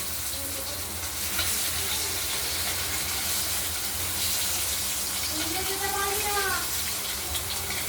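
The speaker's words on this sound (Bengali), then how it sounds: "মাছগুলো ভাজা হয়ে গেছে।" Pieces of katla fish fry in a pan with a dense, steady sizzle that fills the whole clip, close and even, with faint tonal chirps rising over it near the end.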